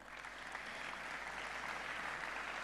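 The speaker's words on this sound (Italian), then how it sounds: "il generale Francesco Paolo Figliuolo, a cui rivolgiamo un applauso." Audience applause fills a conference hall at a regional business association assembly, a steady dense wash of many hands clapping at moderate loudness throughout, with no voices over it.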